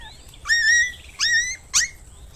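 A cartoon dog gives three separate high whimpering yelps, each a rising and falling whine, clear and close over a quiet background.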